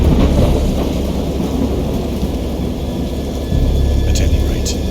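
A thunderstorm rolls on with deep, sustained rumbling thunder and a constant wash of rain, loud and dense throughout, swelling again near the end.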